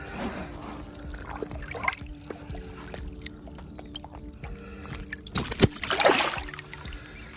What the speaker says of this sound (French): on va le remettre à l'eau